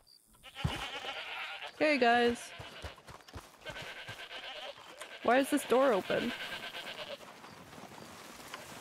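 Goats bleat in the Red Dead Redemption 2 video game, two bursts of wavering, nasal cries over soft game ambience while someone talks casually in between.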